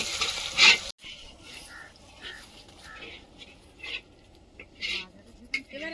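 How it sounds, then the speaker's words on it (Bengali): Eggplant frying and being stirred in a pan during village cooking for a large group, with soft sizzling and intermittent scraping stir strokes, a brief louder clatter near the start. "বেগুনটা একটু ভাজা হোক"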